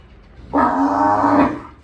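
A single loud, close moo from a Kankrej cow, a deep sustained call lasting about a second before fading.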